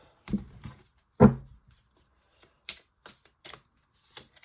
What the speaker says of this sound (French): Et donc, je vais prendre une carte.